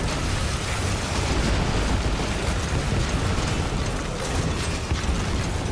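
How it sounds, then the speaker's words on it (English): Missile launcher fire from the video game Metal Gear Solid V, a dense continuous roar of explosions and mechanical rattling, loud and sustained with no clear separate blasts and no talking. "Engaging missile launcher."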